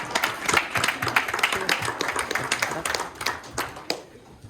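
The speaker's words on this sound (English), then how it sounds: "Round of applause." Applause from attendees standing at a board of directors meeting, a close patter of clapping hands of uneven density with some voices underneath, tapering off near the end.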